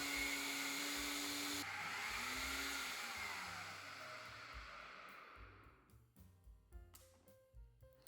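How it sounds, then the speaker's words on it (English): A NutriBullet blender grinding dry oats: a loud, steady motor whir with rattling grains for several seconds, then winding down into scattered taps and knocks of the jar being shaken. "This is my way to grind oats. Using NutriBullet,"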